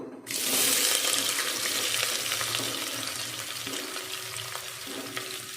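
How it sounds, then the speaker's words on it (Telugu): Chopped onion hits hot oil in a pan while cooking chicken palava, setting off a sudden loud, steady sizzle that holds evenly throughout with no voices. "ఇప్పుడు ఆనియన్ వేస్తున్నాను"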